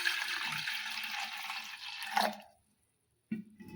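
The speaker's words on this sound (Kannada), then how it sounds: "ಈಗ ಇದಕ್ಕೆ ನೀರು ಹಾಕ್ತೇನೆ ನೋಡ್ರಿ." Water pours steadily onto washed lentils in a pot for sambar for about two seconds, then stops abruptly. After a short silence, a faint clatter follows.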